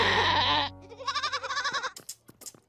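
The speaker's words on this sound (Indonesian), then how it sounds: "Beberapa bayi kambing akan lahir" Baby goats in a Loud House cartoon bleat in a quick run of short, wavering cries after a loud opening sound, ending in a few sharp bursts.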